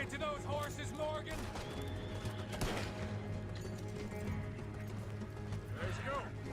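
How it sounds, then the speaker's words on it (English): Horses in the western video game Red Dead Redemption 2 clip-clop with rhythmic hoofbeats and a whinny, set among game sound effects and background score. "Let's get to those horses, Morgan"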